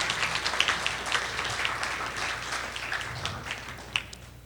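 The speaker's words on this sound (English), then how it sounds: "let's give Mr. Phillips a round of applause" A debate-final audience gives a round of applause for Mr. Phillips, a steady wash of many hands clapping at moderate level, with a few sharper claps standing out near the end.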